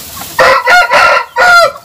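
Loud, close free-range village chicken calls in three drawn-out bursts, a rooster-like crowing cackle, with no talking.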